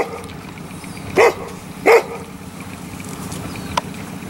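Two short barks from a guard dog a little way off, spaced about a second apart, over a steady outdoor background hum.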